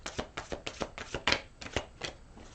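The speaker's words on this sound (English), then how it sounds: "One more shuffle." Tarot cards being shuffled by hand, a quiet, close riffling with soft rhythmic slaps and flicks repeating about every quarter second, alone without talk.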